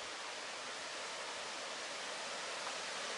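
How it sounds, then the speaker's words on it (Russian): Artificial waterfall fed by pipes in the Kourtaliotiko gorge, a steady broadband rush of falling water that stays even and fairly faint throughout, with no voices. "водопад искусственный"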